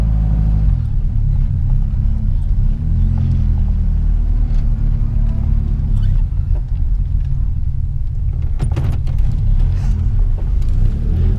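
A vintage Citroën Traction manoeuvres close by, its engine giving a steady low rumble throughout with small shifts in pitch and brief mechanical clicks near the end.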